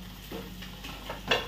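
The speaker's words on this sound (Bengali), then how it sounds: "আর এইভাবে চালিয়ে চালিয়ে ডিমটাকে একটুখানি কুচিয়ে নেবো" Eggs stirred and broken up in a hot pan on high flame, a soft steady sizzle with scraping spatula strokes that swell a few times, the last one louder, no voices.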